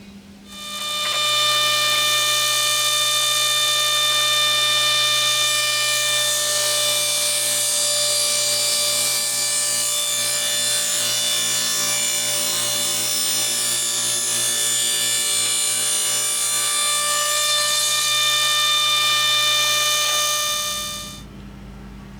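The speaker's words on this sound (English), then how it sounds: "ran the blade up to the proper dimensions, and that way, even though I have a sliver of wood that I'm trimming off, it's still completely supported all the way through the cut." Table saw trimming a thin sliver from an oak strip, a loud sustained whine with steady ringing tones that holds for about twenty seconds. The pitch dips slightly as the blade spins down at the end.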